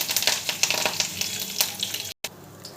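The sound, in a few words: tempering seeds frying in hot oil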